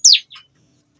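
A young ciblek, or bar-winged prinia, gives one sharp, high, bright chirp followed by a fainter second note, close by and alone.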